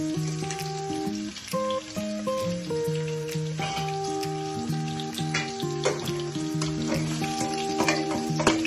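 Ground meat sautés in a pan for spaghetti sauce with mushrooms, a steady close sizzle and crackle running throughout alongside tonal music, with no talking.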